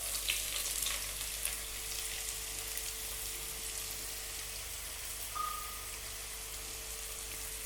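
Sliced onions with fennel seeds sizzle steadily in hot oil, a continuous even frying hiss with a faint occasional pop, no voices.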